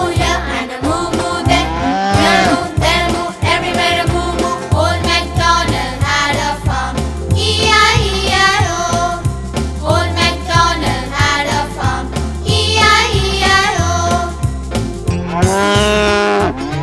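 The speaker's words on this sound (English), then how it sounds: "And on his farm he had some cows." Cattle mooing in a sung Old MacDonald farm nursery rhyme, loud repeated moos set against steady music throughout.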